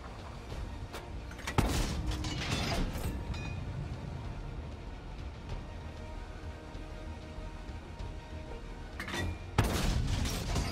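Two heavy tank cannon blasts, HESH and APCR rounds from an FV4202 Tier 10 in World of Tanks, each a loud sharp boom with a rolling tail, spaced far apart over a constant low engine and battle rumble.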